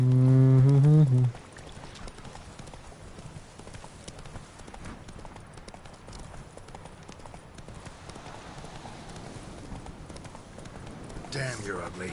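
Roach, the horse in The Witcher 3, walks with steady, soft clip-clopping hooves under low background ambience, after a brief voiced tone at the start.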